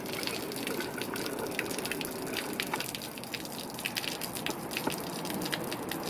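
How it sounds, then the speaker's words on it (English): Air pumped through RV plumbing to blow the water out during winterizing, a gushing, sputtering spray of water and air with irregular bursts, close and steady, with no talking. "we're going to pump air through the system to blow all the water out of the system"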